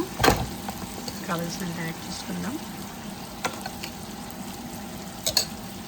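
Paste added to frying brinjal curry for bagara baingan, a soft plop and spoon scrapes over a gentle steady sizzle in the pan, close and fairly quiet.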